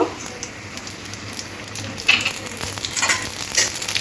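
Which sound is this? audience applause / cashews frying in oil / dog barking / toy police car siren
cashews frying in oil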